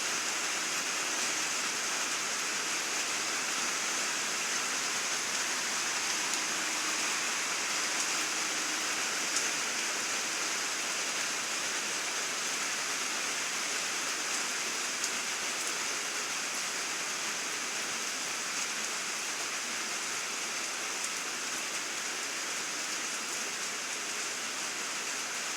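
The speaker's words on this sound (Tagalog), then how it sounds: "Malakas na ang ulan mga idol." Heavy afternoon rain pours down without pause, a dense, even hiss of falling water that stays steady and close for the whole stretch with no voices.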